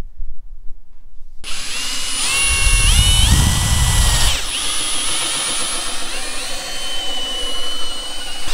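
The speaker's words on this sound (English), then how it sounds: "We just got to drill the hole for the faucet." A power drill cuts a faucet hole while renovating a 1999 Lance 1030 cabover camper, giving a loud, steady whine that rises and bogs down mid-cut before continuing, close up.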